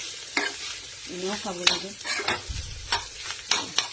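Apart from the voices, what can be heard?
frying and stirring bitter gourd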